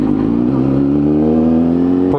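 A motorcycle pulls away in first gear as the clutch is released and throttle applied, the engine note rising in a smooth, close, sustained whir with no talk.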